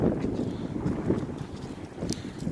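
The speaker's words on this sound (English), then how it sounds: "Got things blowing around out here. It's very windy." Cold, strong wind gusts buffet the microphone across a big open outdoor space, a continuous low rumbling roar with uneven surges and no talk.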